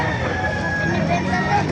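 A rooster crows at a busy chicken market in Baliuag, Bulacan, partly masked by the murmur of a crowd and nearby voices.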